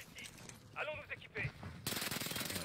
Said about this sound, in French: c'est le tir au jugé, c'est le PPSH